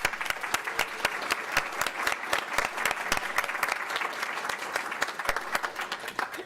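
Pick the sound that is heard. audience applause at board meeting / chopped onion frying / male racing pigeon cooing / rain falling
audience applause at board meeting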